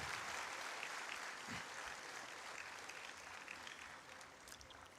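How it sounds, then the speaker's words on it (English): Audience applause at a school education symposium felicitation programme in Meghalaya, a steady, broad wash of many hands clapping continuously for the whole stretch, fairly distant and even in level. "let's give each a big round of applause to kind of lift off the spirit of this program today."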